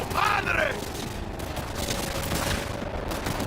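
Rapid gunfire rattles in the Cyberpunk 2077 video game, a dense burst of shots followed by continuous noisy combat that stays loud throughout.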